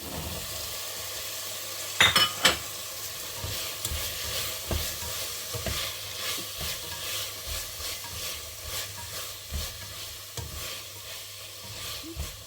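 Boiled chickpeas stirred into a tomato and oil masala for chana masala, with a gentle continuous frying sizzle under repeated scraping spatula strokes against the pan, close and with no speech.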